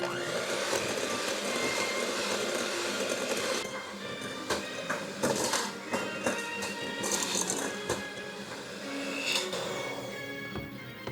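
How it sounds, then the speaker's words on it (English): An electric hand mixer with beaters churns cookie dough in a bowl, a steady motor whir with rattling clicks as the beaters scrape the sides. "I'm just gonna use my beaters just to scrape down the sides of my bowl. I'm gonna continue to mix."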